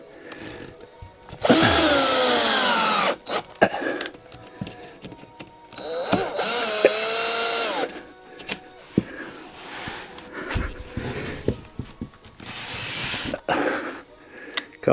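A power drill drives screws into drywall in a cabin, with two loud whining bursts of the motor spinning up and slowing, separated by knocks, clatter and handling noises.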